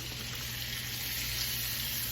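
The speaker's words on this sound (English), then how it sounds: "now you can hear it sizzling" Steady crackling sizzle of food frying in a hot pan, continuous and fairly close, with no voices.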